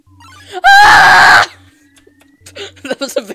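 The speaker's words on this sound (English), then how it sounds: "That was a very loud scream." A loud, sustained scream rings out in the video game Deltatraveler, lasting under a second near the start, followed by a short burst of game speech or sound effects.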